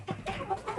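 Chickens cluck on a farm, kept outside and apart from the flock, a close run of short throaty clucks in quick succession with no talking.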